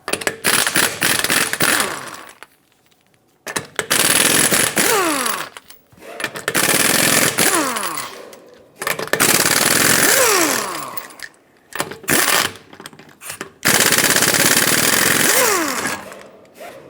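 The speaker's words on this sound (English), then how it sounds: "with a 21mm socket, remove all 5 of your lug nuts and then pull the wheel off" Rear wheel lug nuts on a 2013-2018 Hyundai Santa Fe being spun off with a 21mm socket on an impact tool, loud close bursts of motor whine with rising pitch sweeps, repeated about five times with short pauses between.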